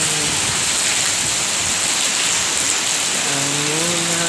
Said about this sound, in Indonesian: Pengen lihat hujan di akhir tahun 2020?